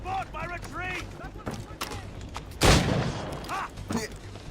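Gunfire in the Assassin's Creed Rogue video game, one loud sharp blast in the middle of the scene, surrounded by game voices talking and background battle ambience.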